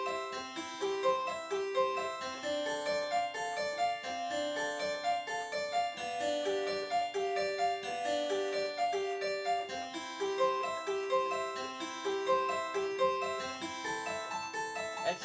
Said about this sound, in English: Let's say I'm going to play it on a harpsichord.